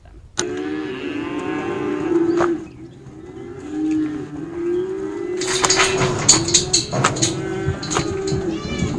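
Cattle mooing on a Missouri ranch during processing, long loud close lowing calls repeated several times, with overlapping moos and some clatter in the second half.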